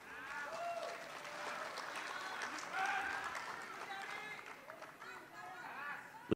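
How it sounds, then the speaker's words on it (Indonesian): Enthusiastic applause from a gathered audience rolls on steadily at a middle distance while a voice talks over it and crowd chatter mixes in. "Pernyataan itu disambut tepuk tangan sangat meriah ini oleh yang hadir."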